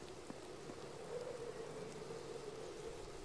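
Video game rain falls steadily, a soft continuous hiss of drops on surfaces, heard alone without talk.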